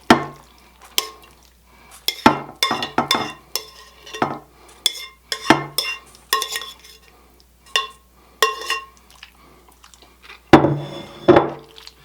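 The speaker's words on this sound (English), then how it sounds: "And just plop them all in there." Soft spaghetti noodles plopped and scraped into a baking dish for turkey tetrazzini, a run of irregular wet thumps and clinks of a utensil against the dish, close and fairly loud.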